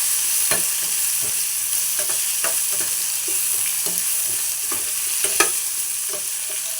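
Guava and tomato sizzle steadily in a pan for chutney, with a bright frying hiss throughout and repeated scraping stirs of a spoon at irregular intervals, close and without talk.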